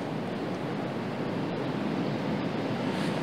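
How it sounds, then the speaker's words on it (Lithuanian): Strong wind blowing at a riverbank, a loud, unbroken roar of rushing air buffeting the microphone for the whole stretch. "Girdit, koksai vėjas ten."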